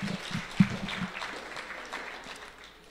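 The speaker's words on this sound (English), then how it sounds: "Please clap for Matrid as she sits down." Brief, fairly quiet audience clapping at a film summit awards session at a university, a few sharp claps early that thin out and fade within seconds.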